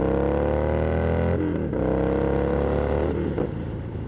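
Victory Gunner motorcycle engine pulling steadily while riding, a loud, close continuous drone with a dip and a brief shift in pitch partway through.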